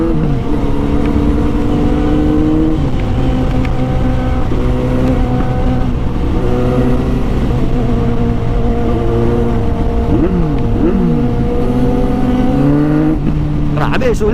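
Kawasaki Z900 motorcycle engine revving hard and loud, with a deep sustained roar whose pitch climbs and drops through repeated throttle blips, close up and dominating throughout.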